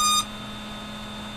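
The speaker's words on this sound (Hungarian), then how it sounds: "Ez a csipogás, ugye ez FPV pilótáknak egy kicsit ismerős lehet." Hubsan Zino Pro drone powering up after a long press on its button, giving a short burst of clear electronic startup beeps lasting about a fifth of a second, then a faint steady tone and quiet hum remain.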